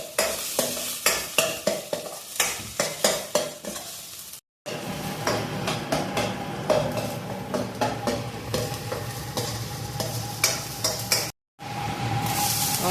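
Momo filling sizzles in a pan while a utensil scrapes and stirs it in a brisk, regular rhythm, loud and close, with two brief cuts to silence and no voices.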